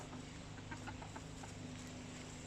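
Backyard chickens squabble and cluck in short, fairly faint bursts against a low steady background hum, with no one speaking.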